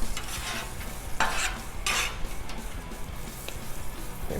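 Hash browns fry in butter and oil on a Blackstone griddle, a constant crackling sizzle broken by scraping spatula strokes and a couple of bright metallic clinks, close up with no talking.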